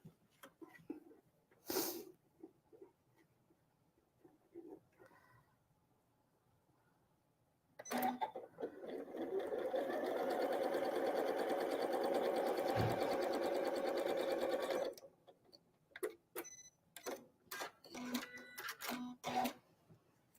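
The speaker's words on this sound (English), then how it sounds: "we're going to sew right on that line" Sewing machine stitching along a marked line on a Carpenter Star quilt block, a steady continuous whirring burst of about seven seconds between scattered clicks and handling sounds.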